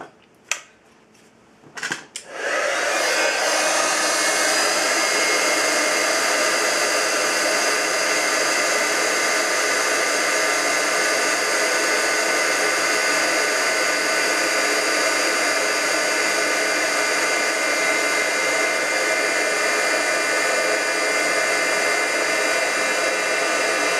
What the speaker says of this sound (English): now I'm going to heat this and melt this with my heat tool